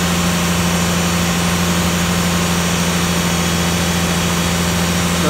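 A car engine idles steadily and loudly with a constant low hum and vibration, alone throughout, while a piston-type AC compressor runs.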